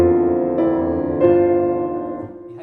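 Piano notes played with the sustain pedal held down, each new chord ringing into the last so the tones blur together into a smeared, lingering wash.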